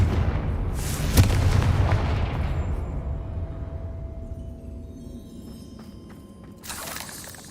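Confringo blasting spell explosions in the video game Hogwarts Legacy: a sharp booming blast and crackling burst that decays into a long rumbling tail, then another burst near the end, with no speech.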